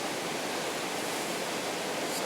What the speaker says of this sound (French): Je me retrouve au bord d'une rivière et en cul-de-sac.